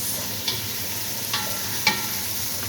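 Pancit noodles fry in a pan with a steady soft sizzle, while a utensil stirs and scrapes them in three brief, sharp clinks spaced apart; no voices are heard.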